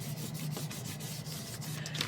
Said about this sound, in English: I'm just smoothing it down with my finger.